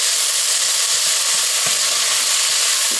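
Colorful peppers sizzle steadily in a pot, a constant dense frying hiss with occasional soft stirring knocks, close and fairly loud with no talking.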